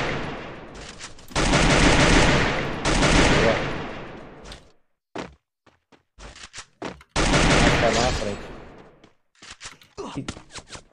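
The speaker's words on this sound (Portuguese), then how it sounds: "O cara tá me fuzilando aqui, mano." Heavy automatic gunfire in a shooter game, several long sustained bursts separated by pauses, then scattered short shots and single cracks, loud and close, with a voice talking briefly in between.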